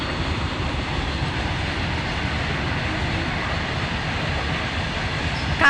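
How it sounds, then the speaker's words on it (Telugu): A train rumbles past farm fields flooded by heavy rain, a steady broad roar that holds level throughout with no talk over it. "మాకు ట్రైన్ వెళ్తుంది చూడండి"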